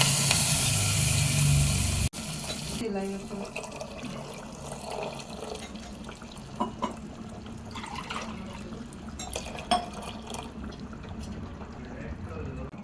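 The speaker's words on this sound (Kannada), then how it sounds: "ಈಗ ಬೇಳೆ ಬೇಯಿಸಿರ್ತಕ್ಕಂಥ ಕಟ್ಟು ಅಂದರೆ ನೀರನ್ನು ಹಾಕ್ಕೊಳ್ತಿದ್ದೇನೆ" Dal cooking water poured into a pan of tempered spices, a loud, close, continuous rushing splash for about two seconds, then quieter kitchen clatter.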